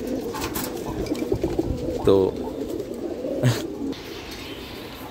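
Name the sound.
pet pigeons cooing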